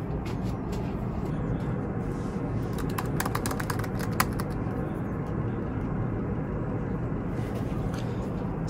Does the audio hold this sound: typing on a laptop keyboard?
yes